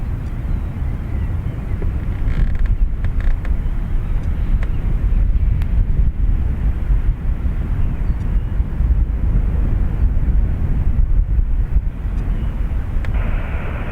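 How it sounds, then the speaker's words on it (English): A 44-year-old Beechcraft B200 Super King Air turboprop takes off from Dublin Airport's north runway, a steady loud engine roar with heavy wind rumble across the microphone, continuous throughout. "So a B200 Super King Air is that, and it's off to Exeter."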